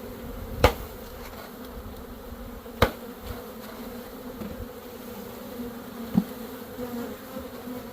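A dense, steady hum of many honey bees buzzing fills the background during a package bee install, with a few sharp taps or knocks standing out.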